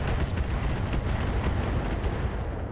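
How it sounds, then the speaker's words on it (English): Improved MRM missile volley fired in the RogueTech mech combat game, a loud dense rumbling barrage of overlapping blasts and booms sustained throughout with no talking. "I'm going to fire improved MRMs here"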